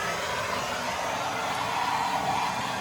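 A torch roars steadily as it heats a stuck bolt on a Japanese motorcycle, a continuous close hiss with no breaks for the whole stretch.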